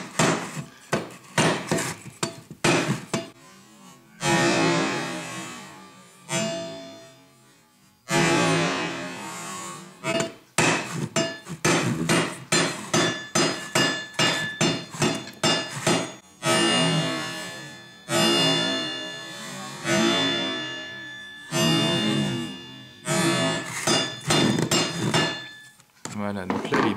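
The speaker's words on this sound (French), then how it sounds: "Peut-être avec le manche du marteau." Rapid, repeated hard taps and knocks, close and loud, coming in bursts with short pauses between them, from striking the edge of a Kärcher vacuum cleaner with a hammer handle during repair.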